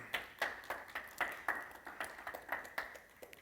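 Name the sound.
applause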